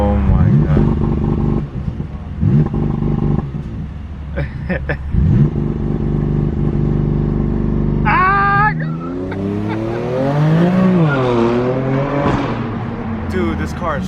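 A powerful car engine revs hard and then roars off, pitch climbing through gear changes, with excited shouting from people inside.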